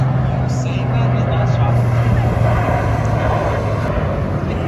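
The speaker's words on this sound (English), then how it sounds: "look at this freaking giant plane" A large airplane flies overhead at a beach on Dauphin Island, its low engine drone loud and continuous beneath wind.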